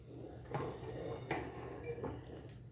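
A metal lid set onto a pan of oats omelette cooking on the stove, a few soft clinks and scrapes over a steady low kitchen hum.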